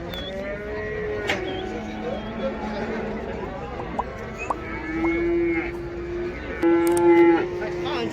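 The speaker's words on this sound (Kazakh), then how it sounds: "350 мың қалыпты бұзаулы сиыр" A cow with her calf at the Taraz livestock market lows repeatedly, loud and close, with other cattle mooing around and people talking in the background.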